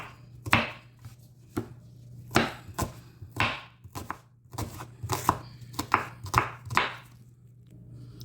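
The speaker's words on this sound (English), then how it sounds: "I'm about to get some onions diced up, guys. Cut these onions." A knife dices three small white onions on a cutting board in a home kitchen, with a run of sharp, uneven chops against a faint steady hum, close and fairly loud.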